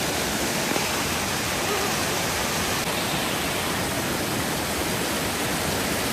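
A loud, constant roar of rushing water from a small waterfall close by fills the whole clip, dense and unbroken.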